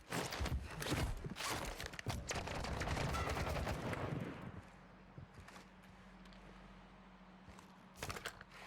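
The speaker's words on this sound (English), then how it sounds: "There's no way they're both shooting at me" Gunfire in Warzone 2, a Kastov 762 assault rifle match: dense, loud bursts of shots for several seconds, then a quieter stretch with a low hum and one more sharp burst near the end, no talk.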